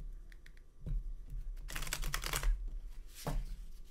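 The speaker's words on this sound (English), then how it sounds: "Shuffling is so satisfying." Tarot cards riffle and slap together in a couple of quick bursts, with lighter clicks before and after, close and fairly loud, no voices.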